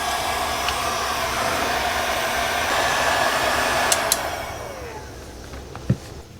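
A heat gun blows steadily and loudly up close while shrinking heat-shrink tubing over a wire splice on a floor scrubber's traction motor wiring, a constant rushing whoosh that eases off toward the end, with a couple of small clicks.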